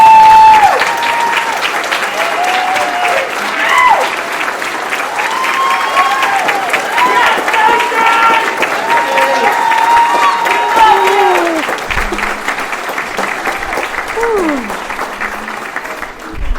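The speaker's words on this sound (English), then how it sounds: "I hope you guys captured the applause" Sustained audience applause fills a community celebration hall, steady and dense for the full stretch, with scattered voices and a few whoops mixed into the clapping.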